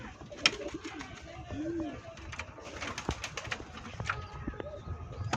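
Shallow pigeons on a Bangladeshi farm coo softly in low, rolling calls amid other bird chatter and faint background noise, with a voice talking briefly.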